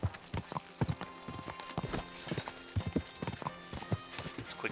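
Horse hooves clip-clop in a steady trotting rhythm from the video game Kingdom Come Deliverance 2, close and fairly busy, with faint ambient game sounds underneath.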